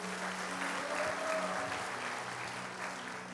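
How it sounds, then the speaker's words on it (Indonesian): A church congregation claps and cheers for Jesus during a sermon, a steady wash of applause at moderate distance with a faint sustained musical tone underneath. "Tepuk tangan buat Tuhan Yesus."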